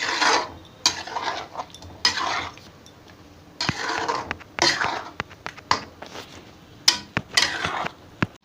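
A spatula stirs and sautés food with turmeric in a pan, making a series of clinking, scraping strokes in irregular bursts with short pauses between them, close and fairly loud.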